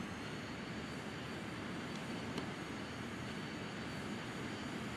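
Steady, fairly faint whine and roar of a simulated Rockwell X-31 jet engine in Flight Simulator X, a constant broadband drone with no break and no talk.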